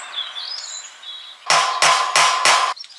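Four sharp hammer strikes in quick succession, loud and close, as a small divot is tapped into a surface ahead of drilling at an off-grid cabin in Portugal, with birdsong chirping faintly before the blows.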